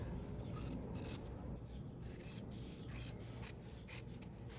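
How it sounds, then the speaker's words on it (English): Scissors snip through excess fabric seam allowance on a welt pocket with French seams, a series of soft, close rasping cuts, faint and without talk. "Trim off the excess seam allowance."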